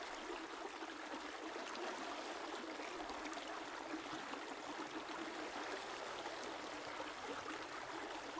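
River water flows in a steady, even rush with soft gurgles and trickles, a faint continuous wash with no voices.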